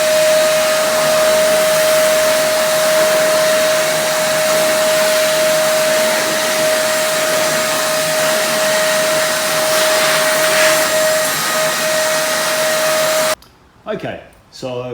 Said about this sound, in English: I've done a bit of vacuuming on the floor, picked up a bit of dust into this thing.